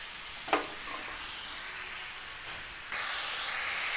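Bottle gourd leaves dropped into a pan with poppy seed paste: a brief burst of sizzling as the greens hit the oil, then steady frying hiss that grows louder toward the end.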